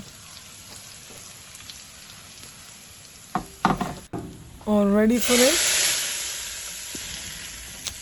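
A brief spoken phrase, then a sudden loud sizzle as curry leaves and bay leaves hit hot oil for tempering, crackling strongly before gradually settling into a softer fry, outdoors.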